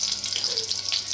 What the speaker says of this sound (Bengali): ফোড়ন দিয়ে ভালো করে ভেজে নেব।